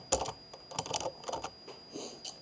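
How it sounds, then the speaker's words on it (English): Typing on a computer keyboard, quick irregular bursts of key clicks close by with short pauses between, no talking. "So if we type in here Mary"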